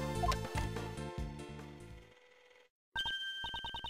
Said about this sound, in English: Mr. Edgeworth, Judge Cordy's cell phone is ringing